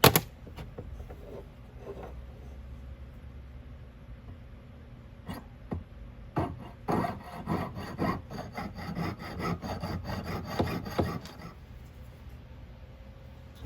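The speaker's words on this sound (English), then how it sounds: "we got the two hearts sawn off" Silver heart pendants from a sand casting being hand-sawn apart, a scratchy rasping stroke rhythm that starts sparse and becomes a dense run of strokes midway before stopping, close and fairly quiet.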